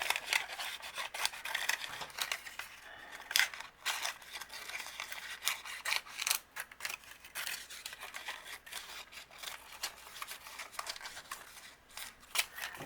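Scissors snip a circle out of material for a chenille doll, giving quiet, close, irregular cutting and rustling sounds with brief pauses and no talking.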